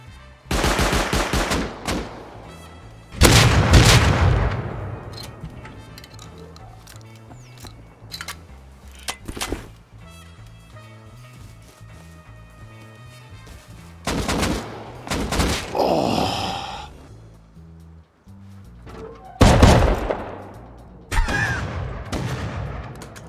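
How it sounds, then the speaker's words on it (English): Gunfire and shotgun traps around a player base in the video game Rust, with repeated bursts of rapid shots and loud blasts in separate clusters, broken by quieter gaps of ambient game noise. "the shotgun traps hit, shoot him"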